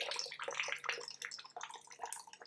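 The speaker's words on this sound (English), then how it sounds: "I'm gonna pour some out for the dead goth homies on the chair." Kentucky bourbon is poured out onto a chair, giving a close, continuous splashing trickle of liquid with small irregular spatters throughout.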